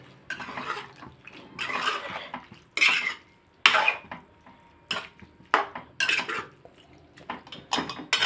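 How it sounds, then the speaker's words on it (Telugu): A spoon scrapes and clinks against a cooking pot while stirring a meal maker and cauliflower curry, in irregular bursts of metallic clatter separated by short quiet gaps. "ఒకసారి కలిపేసి నేను"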